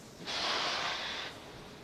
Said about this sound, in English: you can start to hear some of the hissing and popping, and that is pressure venting from the rocket and the plumbing in the transporter erector